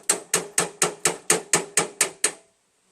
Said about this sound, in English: You mimic an impact with a hammer.